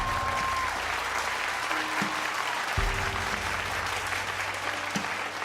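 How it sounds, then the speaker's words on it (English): An indoor audience claps for Pat, steady dense applause that holds at an even level throughout, with faint tones and a voice underneath. "Will everybody please give her a huge round of applause?"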